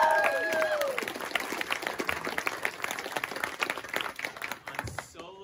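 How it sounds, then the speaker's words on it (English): Applause from a college jazz ensemble concert audience, scattered claps rising over a fading note at the start, fairly quiet and uneven, with a few voices mixed in. "Please round of applause."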